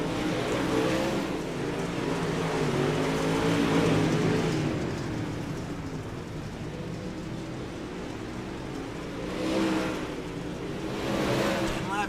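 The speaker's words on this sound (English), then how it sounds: "up on the 95 of Smith and the 51 of Hermes, as those two are battling for that 7th place position." Dirt track race cars battle around the oval in a race, their engines roaring continuously from a distance with rising and falling waves of revving as cars pass, with faint commentary blended underneath.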